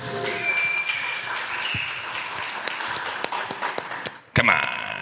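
An audience gives a round of applause at a Crypto Monday San Juan event, steady scattered clapping under crowd chatter and whoops, fairly close, ending with a brief louder burst.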